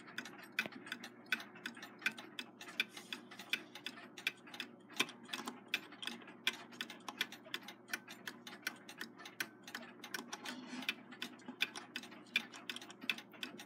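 A Seth Thomas mechanical alarm clock ticks in a quick, steady rhythm of small sharp clicks, close and fairly quiet, repeating evenly throughout with no voices.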